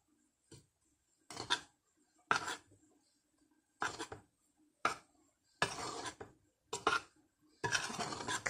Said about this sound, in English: Add a little salt, mix it around.